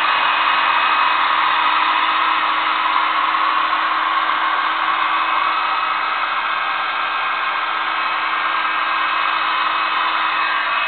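A heat gun roars steadily and close while heating a sheet of plexiglass for bending, an even, unbroken blowing hiss with no voices.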